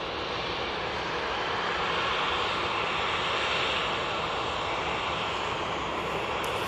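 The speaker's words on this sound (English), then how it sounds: "There's the Ryanair 737 MAX 8." A Ryanair Boeing 737 MAX 8 jet arriving at Manchester Airport, a steady loud engine roar filling the whole stretch with broadband rumble and no talk.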